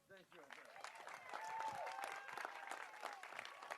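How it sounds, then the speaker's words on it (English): Applause from supporters at a political rally in Niagara Falls, swelling from quiet clapping into sustained applause from a distant crowd, with a voice faintly audible underneath. "Let's give another huge round of applause for Andrea, your outstanding candidate here in Niagara Falls"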